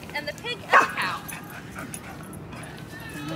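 A person imitates a dog going woof while reading a story aloud at a library dog event, a short yipping vocal bark that rises above the reading voice.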